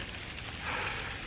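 Sleet pellets strike leaves and other surfaces outdoors on a wintry trail, a dense, steady close-up patter that swells slightly midway through the short stretch.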